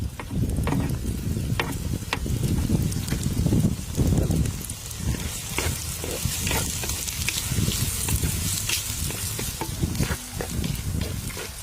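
Onions, green chilies and dried red chilies fry in hot oil, giving a loud, dense sizzle with frequent crackles and the scrape and clatter of a spoon stirring through the pan, and no voices.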